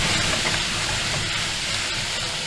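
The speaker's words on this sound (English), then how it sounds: "Into your pan goes a shot of brandy." Brandy poured into a hot pan of peppered steak hisses and flares, a loud, steady broadband sizzle and roar of burning alcohol filling the whole stretch without pause.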